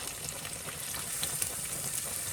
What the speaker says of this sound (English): once your oil is shimmering but not smoking, That's right. add your shrimp.